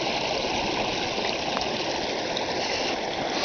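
Steady stream water flowing past the remains of an old dam in a snowy marsh, a continuous close rushing wash with no pauses and no voices.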